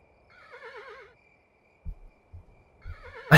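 A horse in the medieval kingdom-building video game Kingdom neighs twice, a wavering whinny at the start and again at the end, with a few soft hoof thuds between, no talking.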